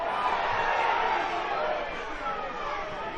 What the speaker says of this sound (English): Crowd rose